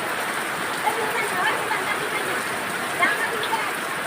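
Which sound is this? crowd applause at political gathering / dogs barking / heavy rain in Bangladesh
heavy rain in Bangladesh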